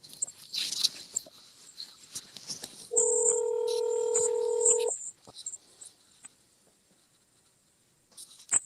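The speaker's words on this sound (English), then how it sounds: "you guys want me to call Beast live and see what happens?" A phone is dialed to place a live call, producing a steady two-tone dialing signal for about two seconds, preceded by soft tapping and handling noises, with a brief clatter at the end.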